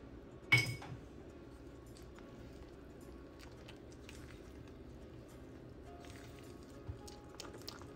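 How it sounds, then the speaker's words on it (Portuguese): Low-carb focaccia ingredients being mixed in a bowl, heard as faint scattered clinks and scrapes of utensil on dish, with one louder knock near the start and no talking. "Então, mistura tudo."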